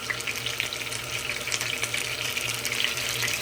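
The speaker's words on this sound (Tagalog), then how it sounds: "Yung maingay na ito mga kababayan ay mainit na tubig." Water heating noisily in a home kitchen makes a steady, rushing hiss with a faint low hum beneath, continuous and close, with no talk.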